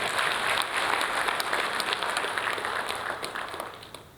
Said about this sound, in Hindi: तो एक ताली जरा बजाइए हमारे दीपक भाई को